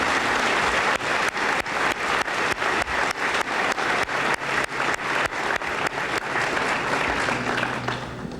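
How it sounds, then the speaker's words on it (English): A high school senior assembly audience in 1999 applauds students, the steady roar of many hands carrying a strong rhythmic pulse of clapping in unison that runs throughout before easing slightly at the end. "Let's give these students a nice round of applause."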